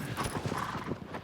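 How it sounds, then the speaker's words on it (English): A horse gallops in Shadow of the Colossus, its hooves beating out a steady, rapid rhythm of close, clear thuds with a faint ambient backdrop. "worn out just watching a horse gallop for as long as they do"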